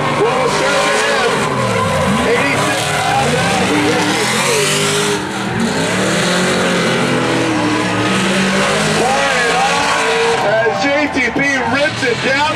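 Drift cars slide down a hill at a drift competition, engines roaring and tires squealing continuously, loud and close throughout, with a crowd and announcer-style noise blended underneath.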